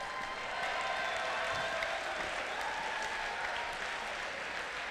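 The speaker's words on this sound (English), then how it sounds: "I think you should all give yourself applause for all the hard effort you've done today" An audience applauds at a FIRST Steamworks off-season robotics regional, a sustained wash of many hands clapping that fills the hall evenly and goes on without pause.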